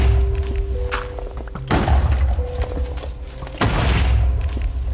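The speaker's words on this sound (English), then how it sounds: "can we not with the explosions?" Deep booming explosions in a Minecraft modpack game, two big blasts with rumbling low-end tails and debris-like crackle in between, loud and continuous with no talking.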